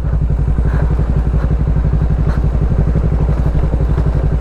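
A motorcycle engine runs steadily on a muddy dirt road in Batangas, its low, even throb pulsing loud and close for the whole stretch with a faint clatter on top.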